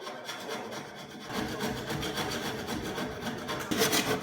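A kitchen worktop is cut to enlarge the hole for a gas hob, giving a continuous rough rasping and sawing sound that grows louder toward the end.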